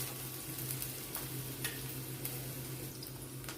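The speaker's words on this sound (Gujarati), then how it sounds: "અડધી મિનિટ આપણે આ રીતે કેપ્સિકમને પણ સાતળી લઈશું।" Sliced and chopped capsicum sautéing in a pan for Chinese rice, a quiet, steady sizzle with faint stirring scrapes and occasional light clicks.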